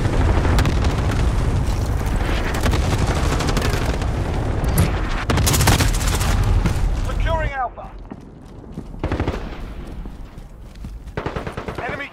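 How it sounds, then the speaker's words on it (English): Allied cruise missile strikes in Call of Duty: Modern Warfare land as dense, heavy booms and rumbling blasts for several seconds, then thin out to scattered gunfire and impacts, with voices calling out over the combat. "Allied cruise missile away."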